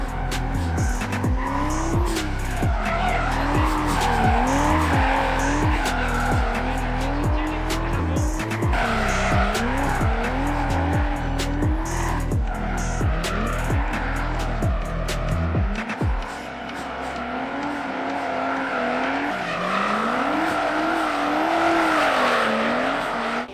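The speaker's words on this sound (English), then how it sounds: "You'll see my car drifting, but Tebow will be driving." A Toyota Chaser drifting on a track, its engine revving hard in rising and falling surges while the tires squeal in long wavering screeches, loud and close, with a brief dip in engine noise partway through.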